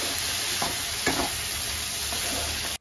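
Ghee and whole garam masala sizzle steadily in a pan, a dense close hiss with a few faint stirring knocks, ending abruptly.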